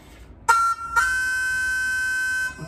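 A short phrase from Lou Donaldson's Alligator Bogaloo solo on a melodic instrument, a brief note, then a held bright tone sustained for about a second and a half, played alone.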